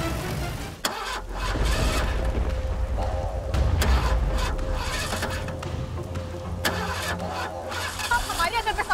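A car engine starts and revs amid a forest setting, its low rumble building loudly and holding steady, with talk over the engine noise.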